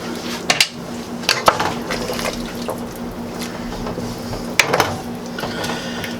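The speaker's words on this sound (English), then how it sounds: "Now we're gonna give that a stir." A spoon stirs chicken, sausage and shrimp gumbo, made without okra or andouille, in a pot: wet sloshing with a few sharp clinks against the pot near the start and once later, close and with no talking.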